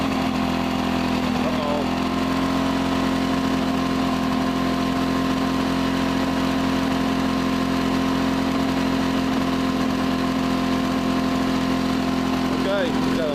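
A lawn mower engine that started on one pull runs steadily at a constant idle-like drone throughout, close and loud, with a brief spoken exclamation over it.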